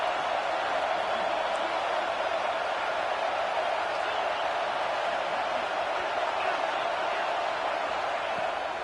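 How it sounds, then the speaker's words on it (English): Dense, steady roar of a football stadium crowd at fever pitch during a third-down play in the red zone, a loud wash of voices that stays even and unbroken throughout. "this crowd is at fever pitch"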